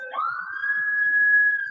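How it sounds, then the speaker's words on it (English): A single emergency-vehicle siren sounds from outside, its tone rising then holding steady as a long, loud wail that dominates the clip, with no talking over it. "you hear the paramedics, you hear the fire engines, you hear the ambulance"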